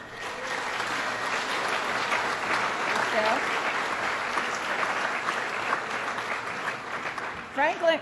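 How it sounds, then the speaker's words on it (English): Sustained audience applause at an awards ceremony for a county board chairman, dense steady clapping throughout with some voices mixed in, tapering near the end. "Let's have a round of applause for Hamilton County Chairman of their board, Bill Farber."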